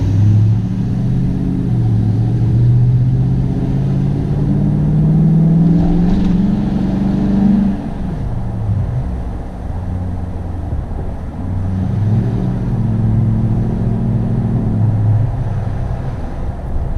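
A loud, deep exhaust drone rumbles steadily from a moving Toyota Tundra pickup with a 5.7L V8 and Flowmaster Super 44 aftermarket exhaust, swelling and easing as the engine revs rise and fall during city driving.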